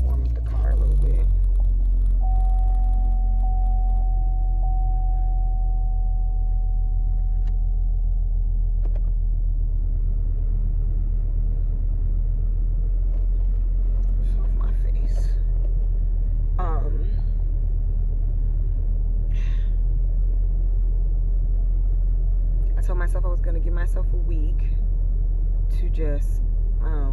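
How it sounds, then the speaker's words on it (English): Car engine idling and warming up in Los Angeles, a deep steady low rumble close by that holds throughout, with faint scattered clicks and other sounds on top. "Warm up the car a little bit."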